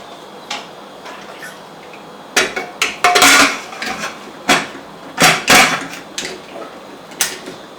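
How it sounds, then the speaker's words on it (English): Clattering metal kitchenware: a lid set down on a pot of cooking chicken biryani rice with several sharp clanks and taps, close by, in short bursts. "Now we'll close the lid and let the rice cook."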